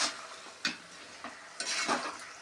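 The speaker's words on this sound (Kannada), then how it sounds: "ಇದು ಒಂದು 2 ನಿಮಿಷ ಈ ಖಾರ, ಉಪ್ಪು, ಅರಿಶಿನ ಜೊತೆ ಸ್ವಲ್ಪ ಚೆನ್ನಾಗಿ ಫ್ರೈ ಆಗಬೇಕು ಮಟನ್ನು." Mutton fries in oil with chili, salt and turmeric, giving a soft continuous sizzle broken by a few scraping stirs of a spoon against the pan.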